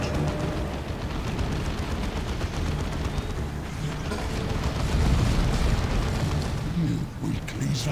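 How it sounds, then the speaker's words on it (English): Cannon fire in the Warhammer 40,000 strategy game Dawn of War II, dense rumbling booms and blasts of battle that go on continuously, with unit voices speaking over them. "Cannon firing!"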